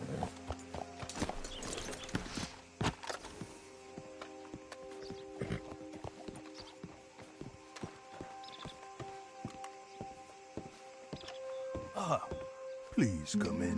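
A horse's hooves clip-clop at a steady walking rhythm in the Western video game Red Dead Redemption 2, close and continuous, with character voices talking over them.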